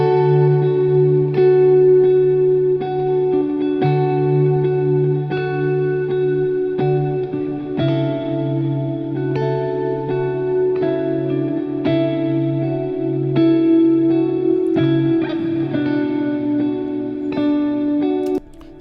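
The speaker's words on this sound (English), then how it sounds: "Okay, that's two guitar parts, a little bit of reverb. That's a preset with Guitar Rig." Two layered ambient electric guitar parts played through a Guitar Rig 6 preset with reverb and effects, sustained chords and ringing notes shifting every couple of seconds, washy and echoing, with no voices.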